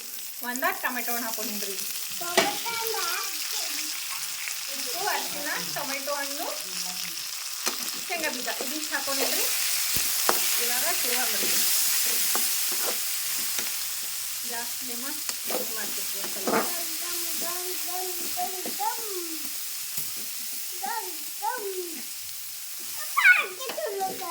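Peanuts, salt and turmeric sizzle and crackle in hot oil as a tempering fries and is stirred, a steady frying hiss running throughout beneath a voice talking.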